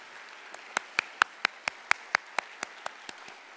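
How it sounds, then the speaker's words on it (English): Applause for Chief Executive Carrie Lam at the PolyU 85th Anniversary Launch Ceremony comes as about a dozen crisp, evenly spaced claps in a slow steady rhythm, fairly faint against a quiet hall. "please join me to have another round of applause to our Chief Executive, Mrs. Carrie Lam."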